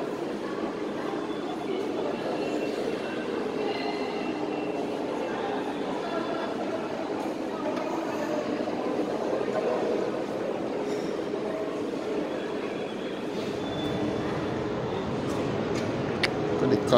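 Steady rumble of a train in Lisbon's main station hall, with a busy crowd murmuring and distant announcements, continuous throughout.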